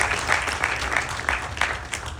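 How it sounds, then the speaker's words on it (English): A festival crowd at a Ganesh Chaturthi celebration applauds a young speaker, dense clapping with a low hum of the hall underneath, steady and fairly close throughout. "Dravishkar, please give him a round of applause."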